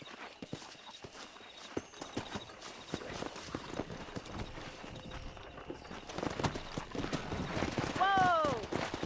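Wild horses in Red Dead Redemption trot past with steady clip-clop hoofbeats, snorts and a sharp whinny near the end, amid busy game ambience and occasional voices.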